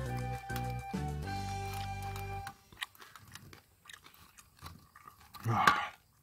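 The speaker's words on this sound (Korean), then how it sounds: "껍데기가 진짜 딱딱한 게 바삭바삭 익었거든요" Crunching bites into crispy barbecued pork skin, a few close crackly chews after a brief burst of music, otherwise fairly quiet.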